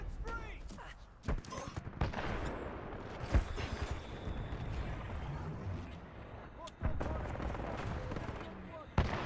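Gunfire in Titanfall 2 rattles out in bursts and single sharp shots over a busy, noisy battle background, with several louder cracks spaced through the stretch and people talking at times.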